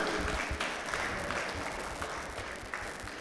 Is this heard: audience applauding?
yes